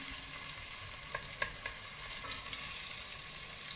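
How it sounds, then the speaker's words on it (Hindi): Chicken shami kebabs frying with onions in a pan, a steady close hiss of oil with a few light crackles and utensil taps, no speech. "और ये हम अच्छे तरीके से इसको फ्राई कर लेंगे कबाब को प्याज से"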